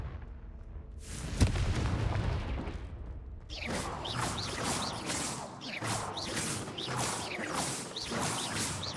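A Confringo spell blast in Hogwarts Legacy: one sharp explosive crack early on, then a lively run of crackling, popping bursts and debris that keeps going. No voices.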